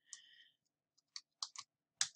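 A computer mouse clicks while a web page is built, giving several short, sharp, isolated clicks spread over a couple of seconds in a quiet room.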